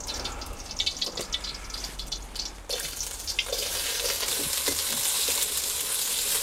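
Carrots stir-fry in a wok over a fierce barbecue burner. A loud, steady sizzle swells when the food goes in, over crackling and the clatter of stirring, with no talking.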